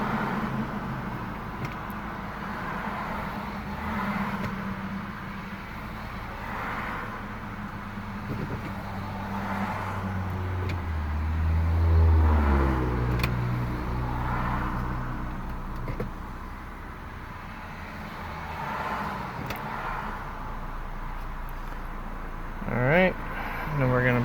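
A 1998–2002 Honda Accord sits idling on ramps while its transmission is shifted through the gears, with a low steady engine rumble and a deeper swell near the middle, and a person talking over it.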